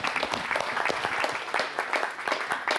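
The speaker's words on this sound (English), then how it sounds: "Let's give him a round of applause." Steady audience applause at a business speaker event, many hands clapping together at an even, moderately loud level throughout with a faint voice or two underneath.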